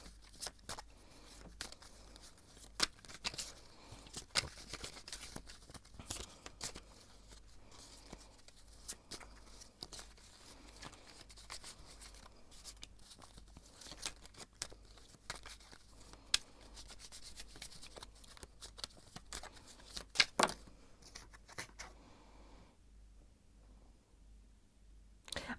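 Tarot cards shuffle quietly at close range in a series of soft riffles and rubbing clicks, irregular bursts spread across a hushed room with a pause near the end.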